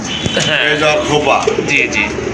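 Pigeons coo repeatedly in a loft of mixed Indian and Iranian Bombay breeds, a busy chorus of soft warbling calls running under nearby men's conversation.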